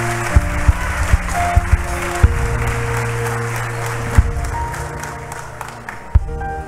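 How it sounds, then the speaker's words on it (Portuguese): A church congregation applauds steadily through a thanksgiving service, the clapping blended with sustained organ-like tones and a few sharp thumps. "E se você puder, aplauda Jesus pela vida do pastor Adelino."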